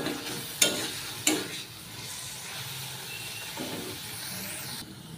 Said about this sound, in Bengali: আমি সেতক্ষণ নাড়বো